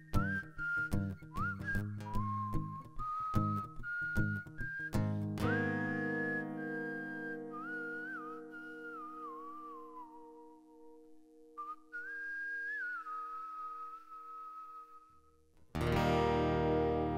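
A man whistles a melody alone, clear and close, in gliding, sustained tones with quick ornamented runs, pausing briefly before a final burst of sound.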